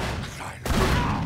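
A shotgun fires in the Call of Cthulhu video game, a single heavy blast cutting in after a brief lull and ringing on with a dense, booming tail.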